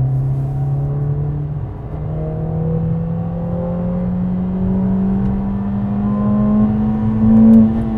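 Synthetic engine sound of a 2020 Mercedes-AMG CLA45 piped through the cabin speakers while driving in low gear, a steady droning hum that slowly climbs in pitch and swells slightly near the end.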